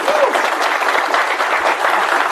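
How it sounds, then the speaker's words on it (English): Continuous audience applause with some cheering mixed in, a dense, steady wash of clapping at a consistent level throughout. "And that's where you guys would applause."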